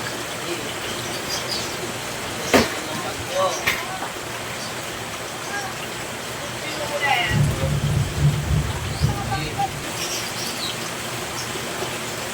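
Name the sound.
heavy rain during typhoon Enteng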